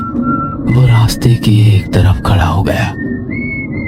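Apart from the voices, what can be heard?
person whistling at night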